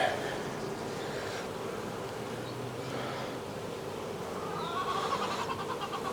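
Honeybees buzz steadily around an open hive during an inspection of a second hive, a close, continuous drone with a few individual bees passing nearer, no voices.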